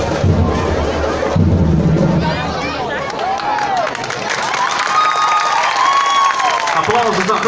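Outdoor crowd at a 7 September civic parade in São Sebastião do Umbuzeiro, Paraíba, as municipal school groups march past, giving steady applause and cheering with constant babble of voices throughout.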